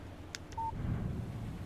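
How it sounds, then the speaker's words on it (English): A short electronic text-message alert from a phone in the game Alan Wake: a couple of quick high chirps and a brief tone, heard alone over a low rumbling ambient background. "Text message from Barry."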